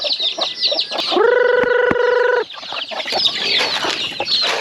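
Chickens and small chicks cluck and chatter continuously at feeding time on a farm, with a loud rooster-like call rising in the middle, close and busy throughout.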